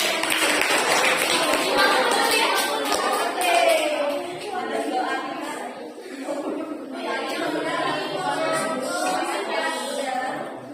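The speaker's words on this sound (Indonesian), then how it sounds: "Sekarang tepuk tangan dulu buat Uye" Students in a classroom role-play lesson applaud a classmate, with busy clapping mixed with lively chatter and laughter, and voices running throughout.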